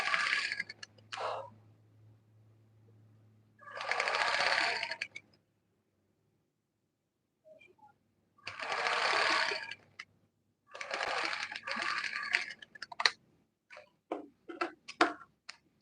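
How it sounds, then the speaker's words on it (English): A sewing machine stitches a smocked sleeve in short, close bursts of fast whirring, broken by pauses of silence and a few sharp clicks near the end. "I'm going to stitch it"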